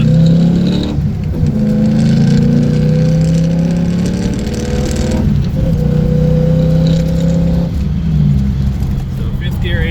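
A 1992 Ford Mustang GT fitted with SVE headers, an SVE X-pipe and Mac Pro dumps rumbles and revs in long, loud, steady swells from close by, with a voice briefly audible.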